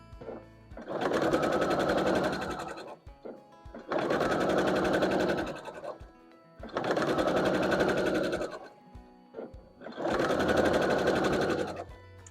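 A sewing machine stitches quilt acorn stem pieces in four steady runs of rapid, even needle chatter, each about two seconds long and separated by short pauses, heard close up with no talking.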